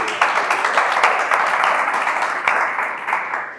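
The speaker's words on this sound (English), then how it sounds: "Please let's give Olamide a good round of applause again" A school debate audience at a New Media Conference claps loudly for a student debater, a dense, sustained round of applause that fills the room and carries on evenly without a break.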